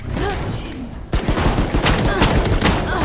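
The Bulldog assault rifle fires in Valorant, rattling off rapid, sharp bursts of gunfire after a brief lull, loud and close, with game sounds and some voice underneath.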